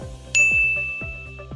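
A single bright notification bell dings and rings out clearly over a soft repeating synth backing, fading slowly.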